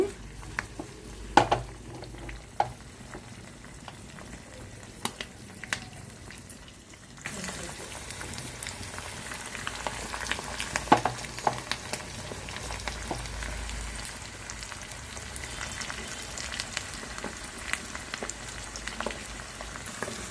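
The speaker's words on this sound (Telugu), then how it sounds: "ఇవన్నీ బాగా వేగిపోవాలి పోపులు ఏగుతున్నాయి" Green and dried red chillies and spices crackle and sizzle in hot oil, with occasional sharp pops and a steady frying hiss that thickens partway through.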